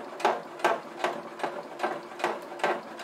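A sewing machine topstitches around the edge of a zippered fabric crossbody bag, running slowly in short regular bursts of rapid mechanical stitching, about seven pulses in three seconds, close and clear with no talking.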